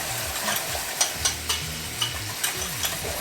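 Milk being whisked into a mac and cheese sauce in a pan, a steady scraping stir with a soft sizzle and light clinks of the whisk against the pan repeating about every half second, close up with no talking.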